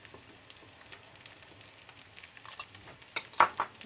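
Shallots and chives cook in hot oil with a steady, close crackling sizzle, broken by light stirring and a few metallic utensil clinks toward the end.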